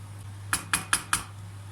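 A spoon clinks against the pot four times in an even rhythm as washed bulgur is toasted and stirred for a potato and vegetable bulgur pilaf, with a steady low hum underneath.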